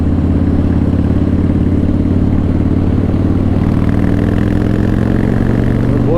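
A Harley CVO Pro Street Breakout V-twin with about 5,300 miles rumbles loud and close at a steady idle, then the throttle opens and its deep, throbbing exhaust note rises and swells, with no voices over it.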